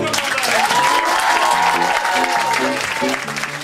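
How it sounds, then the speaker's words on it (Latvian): Audience applause for a student theatre improv team, a dense steady clapping that fills the whole stretch with some crowd noise mixed in. "Aplausus komandai!"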